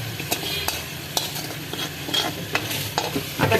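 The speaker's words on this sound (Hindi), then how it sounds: "अच्छे से मिक्स करेंगे गोश्त डालकर" Fried meat being stirred into a sizzling chicken tikka karahi, a steady hiss of hot oil with repeated scraping knocks of a spoon against the pan, close and continuous, with no talking.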